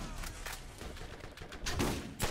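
Gunfire aimed at the player in Borderlands: a few quiet, scattered bursts of shots cracking through low background noise, with the strongest bursts coming near the end.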